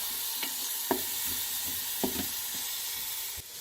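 Ground meat browns in an Instant Pot, a steady low sizzle broken by a few sharp scrapes and clicks of a utensil stirring and breaking it up.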